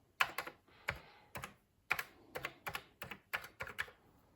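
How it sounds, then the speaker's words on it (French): Keys clack on a Commodore 64 keyboard in short irregular bursts of sharp taps with brief pauses between, close and isolated, no voices. "le clavier, il fonctionne, hein, mais il manque un petit peu de réactivité"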